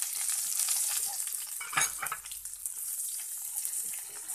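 Raw onions sizzle in a hot pan after bay leaf and dried chillies are added, a dense close hiss with a brief louder burst of stirring midway, no voices.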